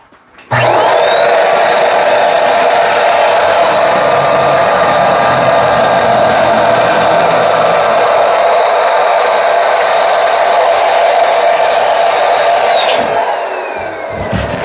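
An electric inflator blows up a large balloon with a loud, steady motor whine and rushing air that holds for about twelve seconds before cutting off, heard alone up close.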